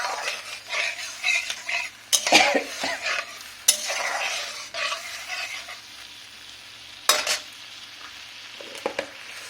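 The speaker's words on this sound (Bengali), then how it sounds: "এটাকে একটু গ্যাসটা বাড়িয়ে আমি একটু কষিয়ে নেব।" Ground spices sizzle in a pan over a gas flame while a spoon stirs and scrapes against the metal, with several sharp clanks of utensil on pan punctuating a steady hiss.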